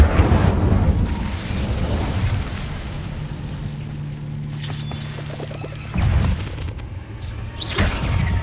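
An Incendio fire spell is cast inside a cave in Hogwarts Legacy on PS5, giving a steady low roaring rumble with heavier whooshing bursts near the end, loud and close, with no talk.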